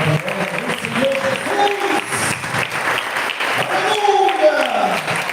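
A church congregation breaks into sustained applause, the clapping filling the room while voices call out over it.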